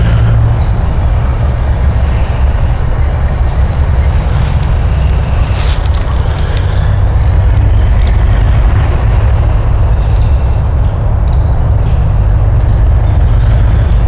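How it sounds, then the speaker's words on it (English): Dump trucks run in the background, a steady, heavy low engine rumble that fills the whole stretch at constant loudness with no voices over it. "I'm sure you can hear the dump trucks running in the background."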